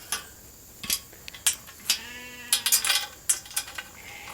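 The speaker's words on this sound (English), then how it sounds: "you'll get to see a mob of sheep storming the gate." A flock of sheep bleats at a farm gate at nightfall, several short, overlapping calls mixed with sharp metallic clanks and rattles, close and fairly loud.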